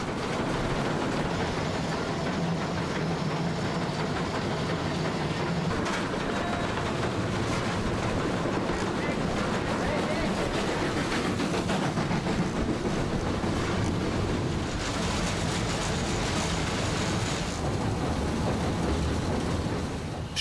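A steam train labors along the Semmering mountain railway in Austria, a continuous loud rumble and hiss with chuffing texture, no talking.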